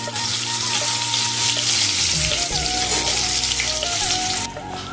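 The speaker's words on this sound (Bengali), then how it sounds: "আমি লাল লাল করে একটু ভেজে তুলে নেব।" Bitter gourd frying in hot oil, giving a loud, dense, continuous sizzle with bubbling crackle up close that eases off slightly at the very end.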